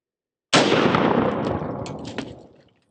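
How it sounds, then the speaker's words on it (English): A single loud gunshot strikes a ceramic Level IV armor plate, a sharp close blast that decays over about two seconds with faint clattering of fragments in the tail. "we had our impact right up there on top and ceramic shot back out"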